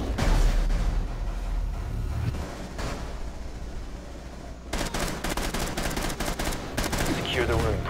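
Gunfire in a Rainbow Six Siege team deathmatch on Hereford Base, loud bursts of rapid shots at the start and again in the second half, with a steady low rumble and a voice talking beneath.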